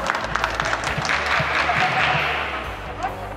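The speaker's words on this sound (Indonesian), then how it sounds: "Tepuk tangan untuk ibu semua." An audience at an Indonesian small-business branding seminar claps in a short burst of applause, a dense crowd patter lasting a few seconds over room noise.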